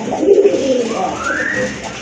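Pigeons at a pigeon sale give a close, loud, low cooing phrase, soft throaty coos followed by a faint rising tone, with no talking over it.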